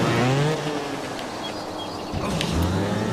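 Motorcycle engine in the Trials Fusion video game, a sluggish bike, revving steadily with a droning, rising-and-falling whine, loud and close, with no talking over it.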